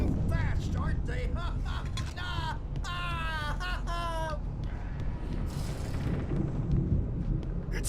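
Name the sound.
thunderstorm in the video game Alan Wake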